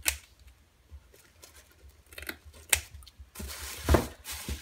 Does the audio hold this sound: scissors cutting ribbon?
yes